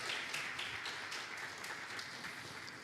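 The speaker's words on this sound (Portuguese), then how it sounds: "Você pode aplaudir Jesus?" A church congregation applauds during a Portuguese-language sermon, a soft, distant, steady wash of many hands clapping that continues without a break.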